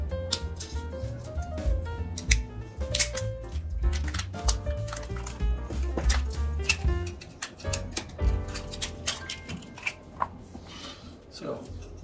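A DJI Osmo Mobile 2 battery pack is cut open on a workbench, with irregular close snipping, cracking and plastic handling sounds running under steady talk.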